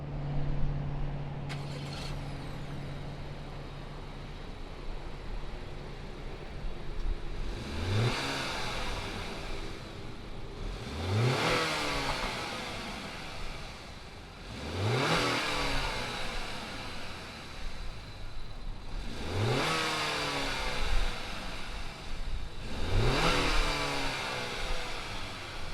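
A 2019 Acura RDX A-Spec SUV engine starts with a brief crank, settles into an idle, then revs up sharply four times in regular rises and falls, each a loud, close roar sweeping upward before dropping back.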